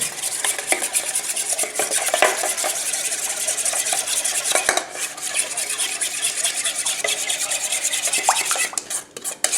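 A spoon stirring a thin, malty honey-like sauce meant for coating vegetarian wings, scraping and rubbing steadily against the pan or bowl with a few sharper clinks, close up and without talk.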